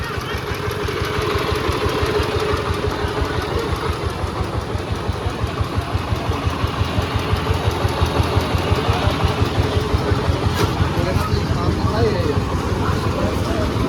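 A small motorized van engine chugs at idle at a mango market in West Bengal, with a steady, rapid thumping rhythm, close by and constant, with people talking over it.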